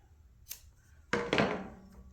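Scissors snip the end of crochet yarn close up: a faint light click, then a sharp cutting snip with a second quick snap, heard alone.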